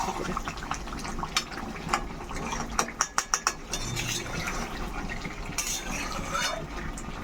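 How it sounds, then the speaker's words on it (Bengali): Chicken curry masala is stirred in a pot, a spoon scraping and clanking against the metal with a quick run of sharp knocks midway, over a low simmering sizzle and a faint murmur of voice. "বারবার নেড়ে দিতে হবে লেগে যেতে পারে"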